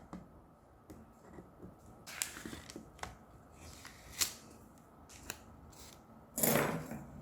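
Scissors cut through a laminated sheet of pressed flowers in a series of quiet, crisp snips spaced irregularly over several seconds, with a louder rustling crunch near the end.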